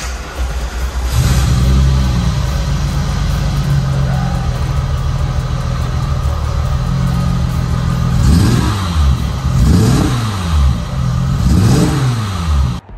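A VR6 engine in a VW MK1 cranks and fires, then settles into a loud, rough idle before several sharp revs rise and fall near the end, heard close with no talking.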